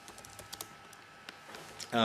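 Quick keystrokes on a computer keyboard, a short burst of light clicks spread over about two seconds, close and fairly quiet, ending in a louder rustle.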